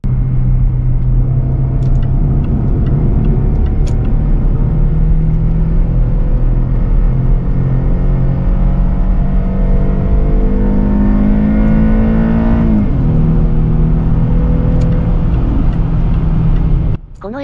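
A Jaguar XF sedan engine pulls hard under full throttle, a loud, close rumble whose pitch climbs steadily through the gears, dips briefly at a shift, then cuts off near the end.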